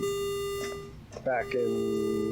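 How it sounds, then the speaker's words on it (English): Electronic alarm on a ship in the game Ostranauts, steady sustained tones under a person talking, with a brief break midway before the tones resume. "That's the alarm going off."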